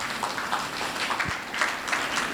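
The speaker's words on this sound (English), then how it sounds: "And we shall give Lilian Tong the applause and welcome her." Audience applause welcomes a panel speaker at a Peranakan heritage event in Penang, a soft, steady patter of clapping from a modest crowd at some distance.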